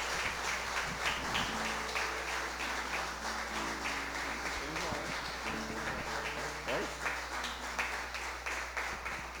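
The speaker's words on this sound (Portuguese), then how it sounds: "Aplauda ao Senhor, em nome de Jesus." A church congregation at a communion service applauding, a sustained patter of many hands clapping at moderate distance, with a voice speaking and some sustained tones underneath.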